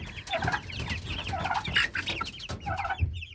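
Several young Faverolles chickens cluck and chirp softly nearby, overlapping little calls in an otherwise quiet coop.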